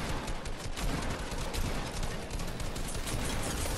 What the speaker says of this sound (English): Bro, how many shots did he take?